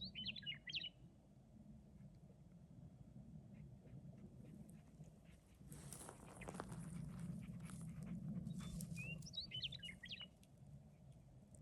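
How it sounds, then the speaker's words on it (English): Faint outdoor bird chirps, two short bursts near the start and end, over a steady low background hum. "just listening to the birds"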